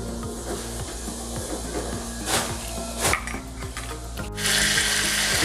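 Butter and oil heat in a pan for a chole tadka, giving a steady sizzle under repeated low knocks and clinks, and the hiss rises sharply in the last second.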